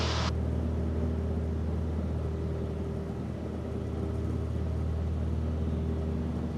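A small aircraft engine runs at full power before takeoff during a night flight, a steady, loud droning rumble with a constant low hum that holds unbroken throughout, with no talk over it.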